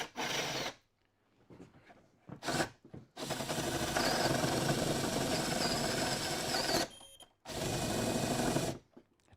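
A CNC router spinning a 35mm tungsten cutter through plywood, running loud and steady in long passes of several seconds, broken by short pauses and a few brief bursts.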